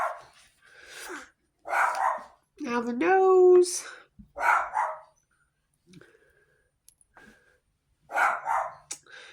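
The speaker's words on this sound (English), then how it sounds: "He's barking at somebody out there." A dog barks a few times, close by and fairly loud, with a short whimpering yip among the barks. A person talks in between the barks.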